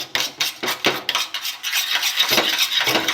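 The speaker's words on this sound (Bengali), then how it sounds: "ডিমটা ফাটিয়ে নিয়েছি ভালো করে।" Eggs seasoned with salt and a pinch of turmeric being beaten in a bowl, a rapid run of close clinking utensil strokes against the bowl, rhythmic at first and then quicker and continuous.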